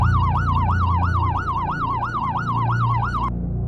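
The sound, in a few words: police siren in the distance, story sound effect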